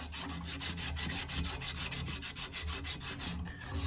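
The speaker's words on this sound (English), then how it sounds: "Just take this sandpaper. I want to say this may be it's a 240 grit." Copper tubing on a vintage 1940 Frigidaire refrigerator being rubbed by hand with 240 grit sandpaper, a close, steady back-and-forth rasping in quick regular strokes with no talking.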